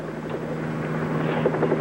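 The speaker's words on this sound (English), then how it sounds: "Helicopter 38 Bravo to Sergeant Ullman." A helicopter flies with a steady, loud rotor thrum and engine drone throughout, close and continuous with no voices.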